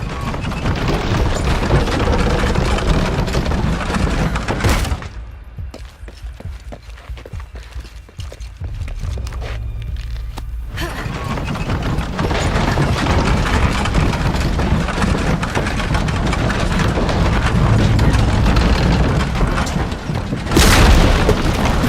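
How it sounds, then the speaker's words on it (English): A heavy boom from a falconet cannon smashing a barricade in Shadow of the Tomb Raider, followed by a sudden drop to quiet, then rumbling debris and rising action noise, ending in another sharp impact. "The falconet would be heavy enough to destroy the barricade."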